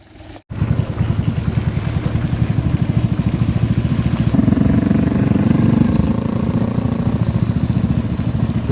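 Vehicles, including tractors hauling water tanks, pass along a dusty village road: a steady, loud, close engine drone with a throbbing idle-like rhythm that grows fuller partway through, no voices over it.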